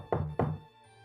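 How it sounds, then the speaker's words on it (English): Two loud, close knocks strike a door in quick succession, each a sharp thud, followed by quiet. "He knocks louder."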